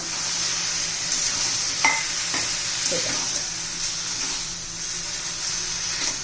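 Masala pasta tossed with red chilli sauce in a pan, scraping stir strokes and a few clicks over a constant bright sizzle and hiss that runs throughout.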